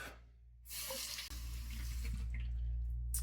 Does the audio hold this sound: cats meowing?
no